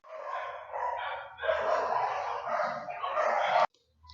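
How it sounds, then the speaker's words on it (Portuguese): Several dogs bark continuously from close range in an outdoor spot, overlapping in loud, rough bursts for several seconds before the sound cuts off suddenly. "os cachorros, aqui é cheio de cachorro"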